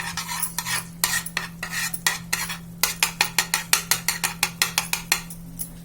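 A spatula working chutney and a pinch of pav bhaji masala together in a pan, giving fast, sharp rhythmic clicks and scrapes against the metal over a low steady hum.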